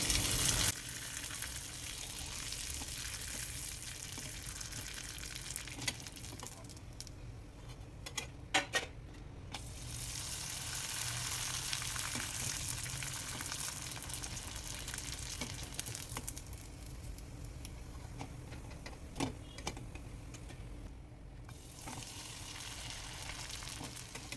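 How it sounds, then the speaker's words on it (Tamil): Dried leftover idiyappam seasoned with pepper frying in hot oil, giving a steady, close sizzle that swells and softens with a few sharper crackling bursts, with no talking. "இப்போ ரொம்ப பொறிச்சு பார்க்கலாம் ஸோ இப்போ ஒரு ரெண்டு போடுறேன் பாருங்கள்"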